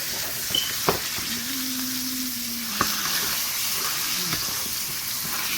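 Butter and garlic sizzle steadily around a T-bone steak in a pan, a constant close hiss with a few sharp utensil clicks and a brief voice murmur partway through.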